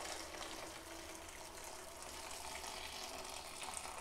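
Freshly boiled water poured while making yogurt, a steady, soft gushing stream that runs continuously and evenly throughout, with no talking.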